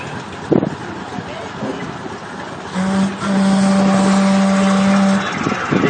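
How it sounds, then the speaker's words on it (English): A Chamberlain 40KA tractor with a long-stroke, big-piston twin-cylinder horizontally opposed engine pulls at a tractor pull, a steady droning engine note rising midway and holding for a few seconds over outdoor wind noise and a voice. "Got the lightning hook, twin cylinder horizontal opposed motor, a long stroke and a big piston."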